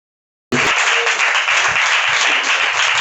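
A church congregation bursts into loud, sustained applause during a live Christian worship message. Dense, steady clapping fills the room after a brief silence at the start.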